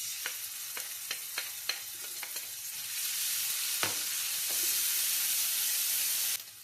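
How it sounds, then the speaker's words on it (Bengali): Ginger sizzling in hot oil in a pan for Bangladeshi kala chana biryani, a steady frying hiss swelling louder with a few stirring clicks early on, close and alone without talk. "তেল দিলাম, তেলটা গরম হোক। এনে আমি আদা দিলাম 1 টেবিল স্পুন আদা।"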